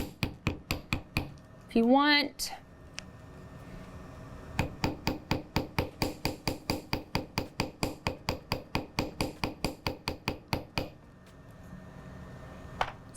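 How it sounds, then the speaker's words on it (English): Ball end of a chasing hammer tapping flattened jewelry wire on a hard surface, a steady run of sharp metallic strikes at a quick even rhythm, close and clear, with a brief voice early on. "you can add some texture with the ball end of your chasing hammer"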